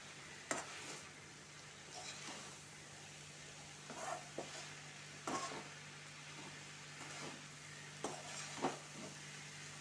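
Food frying over a high gas flame in a pan, with a steady sizzle underneath and a few scraping stirs at intervals, fairly close and moderately loud, no talking.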